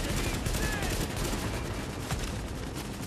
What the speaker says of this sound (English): you have to shoot at him